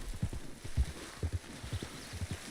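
Hooves of a horse in Red Dead Redemption 2 thud in a loose, irregular rhythm, close and moderately loud, as the animal moves slowly, with no talking over them.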